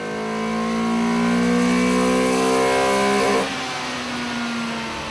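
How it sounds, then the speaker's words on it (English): A Honda CRX engine with about 170,000 km on it runs on a dyno, holding a loud, steady high-revving tone that climbs slightly, then cuts off sharply into a fading lower hum. "we chucked the little guy on the dyno to see what sort of power the engine was making"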